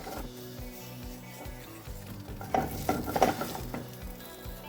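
Onion, bell pepper and capsicum sizzle in a hot pan while a spatula stirs and scrapes them, producing rhythmic clinks and a swelling fry that peaks midway, close and fairly quiet, with no voices.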